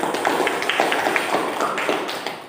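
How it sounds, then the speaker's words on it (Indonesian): Applause for group 3 in a classroom after a student group's presentation. A small group gives scattered, light clapping that is moderately close and fades briefly at the end. "Kita beri aplaus untuk kelompok 3"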